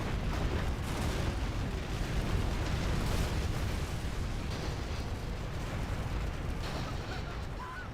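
Artillery barrages in a real-time strategy game, a dense continuous roar of booming shell impacts and rumbling blasts at steady loudness throughout.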